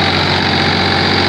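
A Farmtrac 30 tractor tilling a field runs at around 2000 rpm, its diesel engine a loud, close, unbroken low drone with constant vibration and no voices over it.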